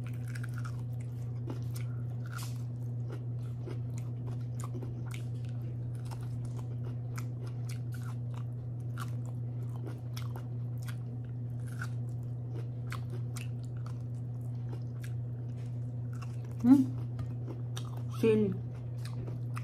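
Crunchy bites and chewing of a pan-fried banana pepper, soft and close, repeated through a steady low hum, with a couple of louder crunches near the end and a brief spoken word.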